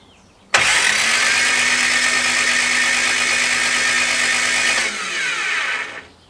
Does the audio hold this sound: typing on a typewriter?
no